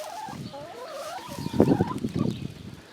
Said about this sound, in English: Looks like the chickens have made it outside now.